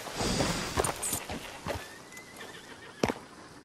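A horse whinnies in a stable in the video game Red Dead Redemption 2, with a clear neigh near the end amid soft clip-clop movement and stable ambience.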